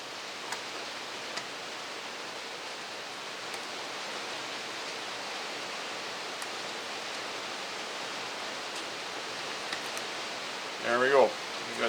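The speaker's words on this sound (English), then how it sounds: "it's rain coming down on the shop roof here like crazy." Heavy rain pounds steadily on a workshop roof in a thunderstorm, making a dense, even hiss throughout. A few faint ticks sound, and a brief murmur comes near the end.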